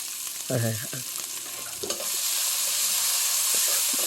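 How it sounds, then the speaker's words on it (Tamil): Ginger garlic paste sizzles and hisses steadily in oil in a pan, with a few brief clinks of a utensil stirring, close and moderately quiet. "எண்ணெயில் நல்லா வதக்கணும்."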